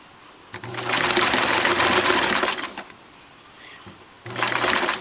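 A sewing machine stitches faux fur in two close, steady whirring runs of rapid needle chatter, the first lasting a couple of seconds, then a short pause and the motor starting again.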